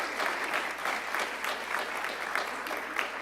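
A theater audience at a Black theater preview event gives a round of sustained, even applause with many hands clapping at once, close and fairly loud, with no speech over it.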